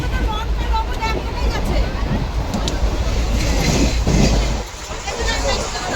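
A loud, continuous rumble of a moving train carriage, with rattling and steady rolling noise while people chatter nearby.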